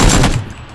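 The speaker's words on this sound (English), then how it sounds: "I shot him a few times too" Gunfire from a weapon in PlayerUnknown's Battlegrounds, a loud burst of shots close up at the start that quickly fades into a decaying tail, with no voices over it.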